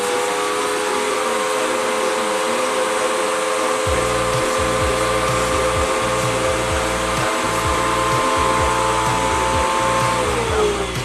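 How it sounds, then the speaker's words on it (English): A steady, loud whooshing drone of a vacuum motor sucking air out of a trash bag through a vacuum tube, with a rumbling tone that kicks in partway and keeps going. "put a vacuum tube in it, and take all the air out"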